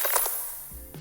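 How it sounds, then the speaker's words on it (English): A processed icy crystallizing effect: glittering high tinkles that shimmer and fade, followed by a low resonant tone near the end. "And the crystallizing sound effect with the processing that I just showed you sounds like this."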